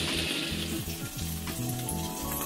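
Young corn sizzles and fries steadily in a hot pan, a loud, continuous crackle with occasional pops from the oil, with no talking over it.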